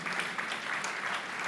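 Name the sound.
audience applause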